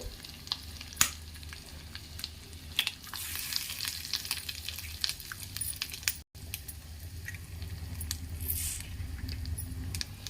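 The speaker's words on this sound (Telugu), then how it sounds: "ఇప్పుడు ఫ్రై చేసుకుందామండి. ఇప్పుడు ఎగ్స్ వేసుకుందామండి." Eggs sizzle and fry in a hot pan with chili powder, a steady crackling hiss with stirring scrapes running throughout, close and fairly loud, with a brief break in the middle.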